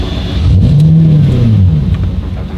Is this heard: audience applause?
no